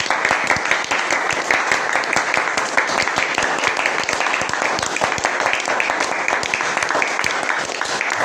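Sustained applause from a church congregation, dense steady clapping filling the whole stretch without a break.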